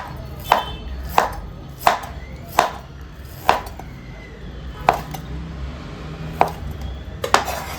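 A knife chops pork pieces, some with bone, on a cutting board for a spicy potato pork curry: about ten sharp, evenly spaced strikes, close and clear, with no talking.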